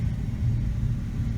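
Ford Thunderbird 3.8 V6 running through a 3-inch exhaust, giving a brief, close, deep low rumble at idle with slight pulsing and no speech.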